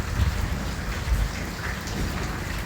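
Rain falls and drips steadily at the Cardiff Bay pier on an outdoor night, a continuous close hiss with a few heavier low thumps of drops and no voices.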